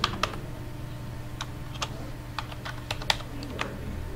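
Computer keyboard keys tap at an irregular pace as an ID number is entered into an online form, soft close clicks scattered over a steady low background hum.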